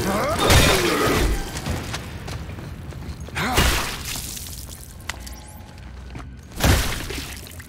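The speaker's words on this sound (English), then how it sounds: "Way he broke out of that glass" Glass shatters loudly as a character smashes his way out in The Callisto Protocol sci-fi horror game, with several sharp crashing bursts and debris tinkling between them, the last big break near the end.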